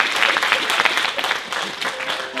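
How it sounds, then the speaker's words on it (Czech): Audience at a knowledge competition in Paskov breaks into lively applause, dense clapping throughout a couple of seconds, fairly close and loud. "myslím si, že si zaslouží potlesk."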